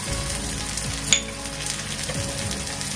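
Onion with turmeric and hing sizzling in a pan for moth bean usal: a steady, close frying hiss with one brief clink of a utensil.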